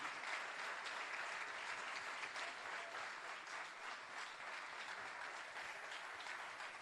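A conference audience applauds a speaker with steady, even clapping that stays loud for the whole stretch, and no voices come through.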